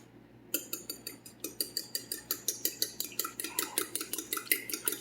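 A fork beats ground turkey in a bowl, clinking against the sides in a steady run of sharp, evenly spaced metallic taps, close and clear with no talking.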